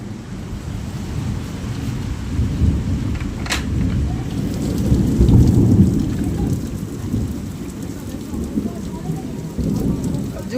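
A nighttime thunderstorm pours heavy rain in a steady roar, with rumbling thunder claps and a sharp crack partway through, and a voice faintly present under the downpour.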